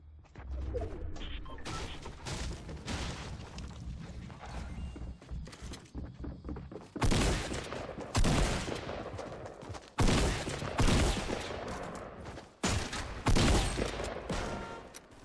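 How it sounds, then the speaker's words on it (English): Gunfire from two enemy squads in a battle royale video game, bursts of rapid shots cracking in irregular volleys, some distant and some loud and close, with quieter gaps between. "I'm being shot at by two teams"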